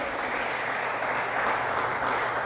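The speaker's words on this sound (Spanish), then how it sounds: "quiero que hoy le demos un fuerte aplauso al Rey de Reyes, al Señor de Señores, por la vida de José El" A church congregation applauding, a dense, steady wash of clapping from many hands that holds at an even, loud level throughout with no talk over it.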